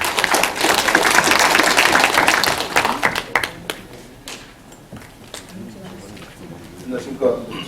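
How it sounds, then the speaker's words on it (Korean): Crowd applause at a 100-person roundtable forum in Jecheon, dense and loud for about three seconds, then thinning into scattered claps and light taps as the room settles. "박수로 환영해 주십시오."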